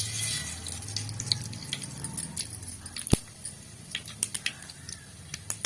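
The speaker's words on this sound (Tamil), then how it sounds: "கடுகு நல்லா பொடிச்சதுக்கப்புறமா நல்லா பொடிக்கிட்டோம் கடுகு" Mustard seeds splutter in hot oil on a stove, giving scattered sharp crackles and pops over a soft hiss, fairly close and irregular throughout.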